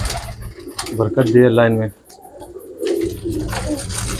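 Old pigeons coo close and loud, with one long rolling coo standing out clearly while someone speaks over and around the calls.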